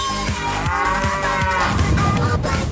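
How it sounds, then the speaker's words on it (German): Cows mooing in the Diablo 2 cow level of the video game, with several deep, drawn-out bellows that overlap into a loud herd chorus along with rhythmic low thuds. "Farm, in der man auf einmal riesige Kühe mit Hellebarden bekämpfen musste."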